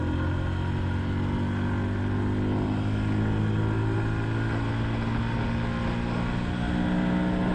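A Honda Super Cub motorcycle pulling wide open in third gear, its small engine droning loud and steady from close by with a rising buzzy tone, under constant wind rush and with no voices.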